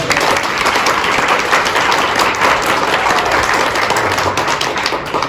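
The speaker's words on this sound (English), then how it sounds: "Let's give her another round of applause." Steady, loud applause for Anna, honored as Bilingual Educators Succeeding Together Administrator of the Year; many hands clap densely and continuously with no break.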